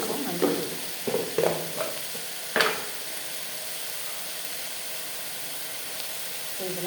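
Chilli powder, sambar powder and turmeric sautéing in a pan for sambar: a steady, soft sizzle throughout, with a few scraping stirs near the start.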